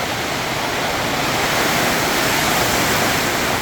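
Heavy rain in a storm drums steadily on a tin roof, a dense, loud and unbroken roar that holds evenly throughout with no voices.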